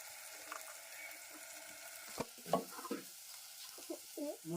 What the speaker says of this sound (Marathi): आता थोडं वाटप टाकूया